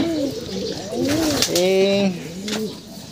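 Pigeons coo in a breeding cage with several close, rolling coo phrases, one after another, against a soft background murmur.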